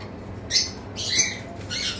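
Pineapple conure parrots in a cage give a few short, bright squawking chirps in quick succession, fairly close and moderately loud over a low background hum, with a hint of wing flutter.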